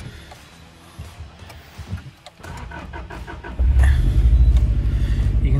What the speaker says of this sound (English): If I fire the old Subaru up